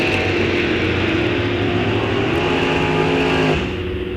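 Drag racing cars at Rock Falls Raceway, a big purple Mopar among them, roaring at full throttle off the line with a loud steady engine drone and harmonic whine that drops away near the end.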